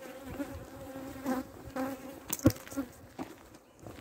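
Honey bees from an aggressive colony buzz around beekeepers outdoors, a steady close droning hum with individual bees passing loudly near the ear.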